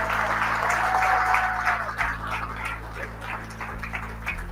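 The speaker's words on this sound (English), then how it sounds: "So the 3 Mikes, can we give huge rounds of applause to them?" Audience applause at a GrooveKon conference event, a sustained wash of clapping from a crowd that starts strong and gradually thins out over a few seconds.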